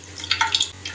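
Used fish-frying oil is poured into a pan, a brief close splashing pour with a few quick liquid gurgles over about a second.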